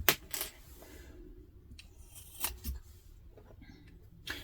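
Scissors snip the corners of a vinyl project bag with a zipper closure, a few sharp close cuts spaced apart against a quiet room.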